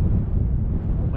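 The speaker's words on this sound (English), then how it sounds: "Wind is cranking." Strong wind roars and buffets the microphone out on a boat while fishing for tarpon, a loud, constant rumble that fills the whole moment.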